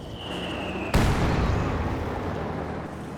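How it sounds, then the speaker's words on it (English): Heavy mortar strike in Company of Heroes 2, a sudden loud explosive impact followed by a long rumbling decay, after a steady battlefield din with a thin whine beforehand. "Heavy mortar strike landing hard as well."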